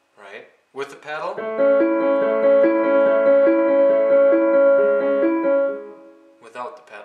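A short piano phrase rings out with notes blending and sustaining into each other, framed by brief speech before and after.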